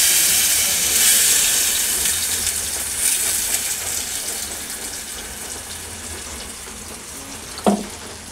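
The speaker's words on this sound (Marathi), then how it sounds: "आता बघा मी फोडणी देते याची." Hot oil sizzles as whole spices are tempered for chhole, a bright steady hiss that slowly fades, with a brief clatter near the end.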